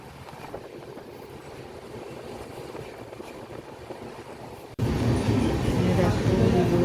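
The crowded Agniveena passenger train rumbles and rattles continuously near Kolkata, growing suddenly louder partway through, as if a door or window opened onto the track noise.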